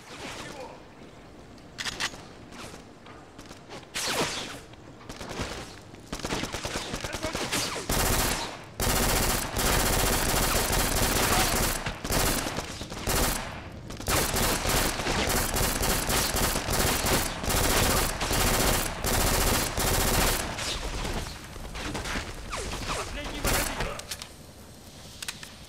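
Rapid automatic fire from a P90 submachine gun in a shooter game, long loud bursts that rattle on and off for most of the stretch, stopping briefly between volleys, with a voice now and then beneath.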